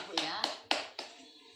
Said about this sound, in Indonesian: Tepuk tangan untuk kita semua Bu ya.